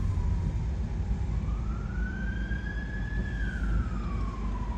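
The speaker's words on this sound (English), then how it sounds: "the fire engine." A fire engine siren wails in slow rising and falling sweeps, moderately distant, heard over the steady road rumble of a car moving through a roundabout area.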